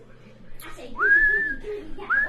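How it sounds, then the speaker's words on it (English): A person whistles a single sustained, gently rising tone, close and fairly loud, followed by a brief second whistle, with no talking. "I can still whistle though."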